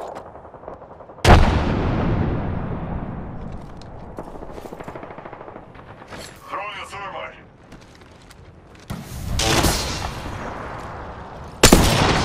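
Frag grenade blasts in Apex Legends, several loud sharp booms with rumbling decay, plus a burst of gunfire in the middle and a voice talking over the action.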